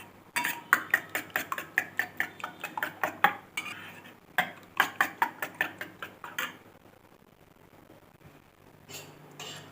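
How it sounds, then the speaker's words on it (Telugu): A fork or spoon whisks two eggs with salt and chili powder in a bowl for an omelette, giving rapid rhythmic metallic clinks in quick bursts with brief pauses, close and crisp, then tapering to a few last taps. "2 ఎగ్స్, ఉప్పు కారం షేక్ చేసేసుకోవాలి"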